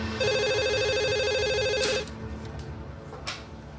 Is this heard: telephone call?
yes